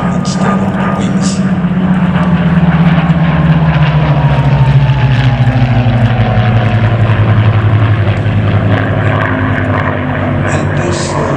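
Hispano Buchon WW2 fighter aircraft flying at an airshow, its propeller engine droning loud and steady with a gliding pitch as it passes, while a commentator talks over it throughout.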